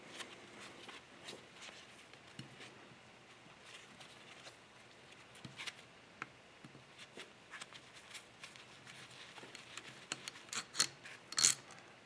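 A linear actuator with a DC brushed motor being slowly opened up by hand: faint scraping, rubbing and small plastic clicks. A few sharper taps and creaks come near the end, and no one speaks.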